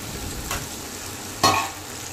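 Pumpkin greens stalks being stirred in a cooking pan: a soft background sizzle broken by two brief scraping strokes, the second louder and sharper, with no voices.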